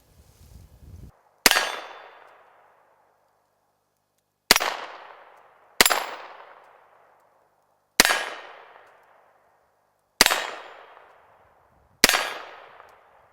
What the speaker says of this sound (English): I'm gonna shoot the Sig MPX now